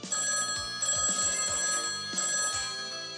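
Telephone bell ringing loudly and close, with sharp metallic rings repeating in a steady pattern of roughly three bursts, heard alone with no talk.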